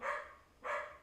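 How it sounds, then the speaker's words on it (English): A dog gives two short barks close by, evenly spaced about half a second apart. The barks are fairly faint, with no other voices. "Now come inside, dog. Don't just bark at me."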